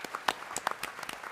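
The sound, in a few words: applause for a school baseball team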